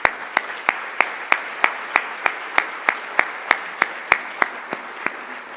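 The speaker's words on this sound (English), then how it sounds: "Let's give them a round of applause." Scattered, spaced claps at a university legacy award banquet in Mitchell, South Dakota, sharp individual hand claps ringing out steadily at a moderate pace, fairly close, with no talking.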